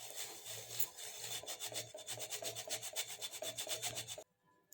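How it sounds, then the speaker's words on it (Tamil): Quarter kilo of maida flour being sifted through a sieve by hand, a rapid rhythmic scratchy shaking rasp that stops abruptly near the end, close and alone without speech. "அதை நல்லா சல்லடையில் வச்சு சலித்து எடுத்துக்கலாம்"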